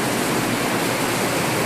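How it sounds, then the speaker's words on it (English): Steady rain falling in Kailua-Kona town, Hawaii, a dense continuous hiss of water pouring down nearby, loud and unbroken with no voices. "It's raining."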